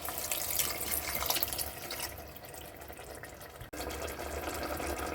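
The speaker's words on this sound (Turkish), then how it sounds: "ben yemeğimizi iki su bardağı su eklemek istiyorum" Water pours into a cooking pot of tomatoes and green beans, a steady close splashing rush that briefly stops and then resumes for a second glass, with no talking.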